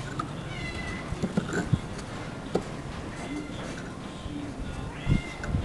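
A cat meows several times, short close calls spread among household clatter and background noise.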